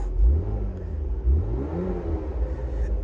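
A 2018 Porsche Macan GTS with sport exhaust engaged revs up twice, rising in pitch with a throaty exhaust growl, then settles into a steady low rumble close by.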